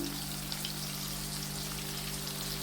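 Prawns fry in a pan for a Thalassery-style dish, a faint continuous sizzle and crackle over a steady low hum.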